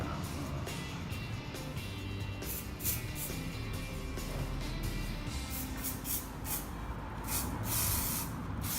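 Hairspray is sprayed onto a man's styled hair in short bursts, several sharp hissing puffs that come in a quick sequence toward the end, close and clear over a soft background hum.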